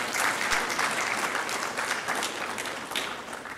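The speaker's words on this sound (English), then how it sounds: "Let's give him a round of applause again." An audience applauds after a professorial inaugural lecture, with dense, steady clapping from a roomful of people that fades slightly near the end.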